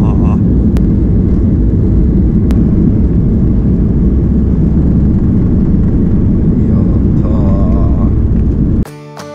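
A passenger airplane engine drones loudly and steadily from inside the cabin, a dense low roar that holds for several seconds before abruptly cutting off near the end.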